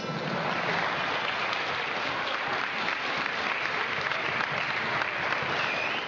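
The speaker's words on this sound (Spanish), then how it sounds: "Lo recibimos con un aplauso." A crowd at a July 9 evening gala applauds a folk music duo taking the stage, an even, sustained roar of clapping holding steady for six seconds without speech.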